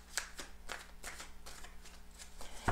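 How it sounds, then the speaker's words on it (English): Tarot cards are shuffled by hand in a rapid series of soft riffling bursts, close and fairly quiet, ending with a sharper tap. "And when I'm shuffling"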